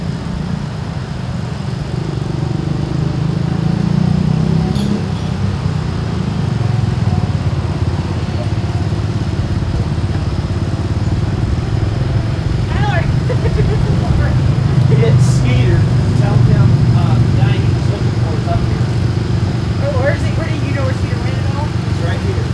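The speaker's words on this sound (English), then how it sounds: "we've got Neil Perrell on a 1959 Alice Chalmers D12 out of Muncie, Indiana. It's a sharp looking tractor you got there, Neil." A 1959 Allis-Chalmers D12 tractor from Muncie, Indiana rumbles along in a power show parade, a steady low engine drone holding throughout with crowd chatter and voices mixed over it.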